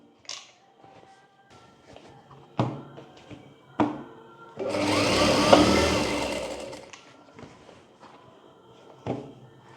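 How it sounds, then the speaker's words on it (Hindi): A sewing machine stitches a folded belt for an Anarkali kurti in a short continuous whirring burst lasting about two seconds, framed by scattered knocks and handling thumps from the fabric and table. "देखिए इस तरह से फोल्ड करने के बाद यहाँ पर सिलाई कर लेंगे।"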